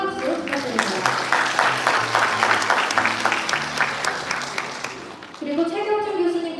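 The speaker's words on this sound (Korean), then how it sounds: "교수님께 큰 박수 부탁드립니다" An audience at a mock parliament forum applauds a professor, with dense rhythmic clapping going on for several seconds while a voice talks over it, then fading as speech takes over near the end.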